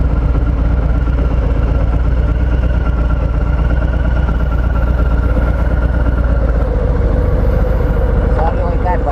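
A 2020 Harley-Davidson Fat Boy motorcycle engine rumbles steadily at low speed during a ride, a loud continuous drone mixed with wind noise that stays constant throughout.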